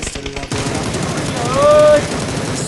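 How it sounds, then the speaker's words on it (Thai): Rapid bursts of automatic rifle fire in PUBG, loud and close, followed by a sustained electronic tone. "เสียงปืนใครเบเรียวอ่ะ"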